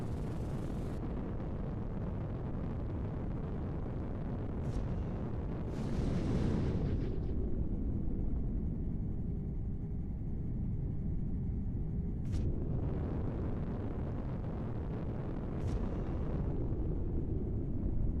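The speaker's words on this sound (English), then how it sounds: "Incoming barrage." An artillery barrage in a video game pounds with heavy low rumbling explosions under a constant deep roar, and several sharp bright blasts crack out at intervals across the long stretch.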